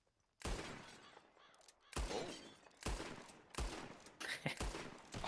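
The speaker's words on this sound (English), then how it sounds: "Just draw your gun and aim when you're ready." Video game gunfire from an online shooter match: four loud bursts of sharp shots about a second apart, each a dense volley with some overlapping reports, alone without talk.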